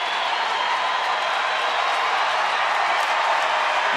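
Steady, loud roar of a baseball stadium crowd of just over 36,000 at a Pittsburgh at Texas game in the 8th inning, a continuous wash of voices and faint clapping with no breaks.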